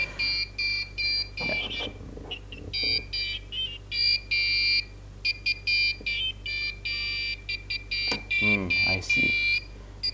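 Piezo buzzer on an Arduino Uno beeping out the Happy Birthday tune, shrill, loud tones in short melodic notes with gaps, and a person talking briefly between phrases.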